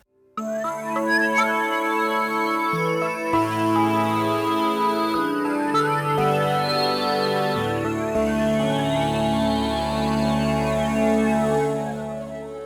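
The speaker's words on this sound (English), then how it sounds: "I really like the distortion of this synth." A Modal Argon8 wavetable synthesizer with distortion plays a loud, continuous sequence of layered chords and sweeping harmonic tones, shifting every couple of seconds for around twelve seconds without pause.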